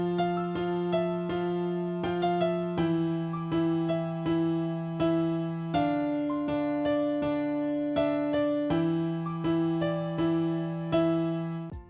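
FL Keys piano in FL Studio layers a melody of single notes over sustained chords, struck in a steady rhythm with frequent note attacks, moderately quiet with no voices.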